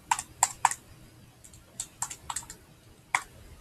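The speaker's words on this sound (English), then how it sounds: "We type in log 135" Calculator buttons are pressed in quick, irregular clicks as numbers are keyed in for a logarithm. About nine or ten crisp, close taps are spread over a few seconds, with no talking.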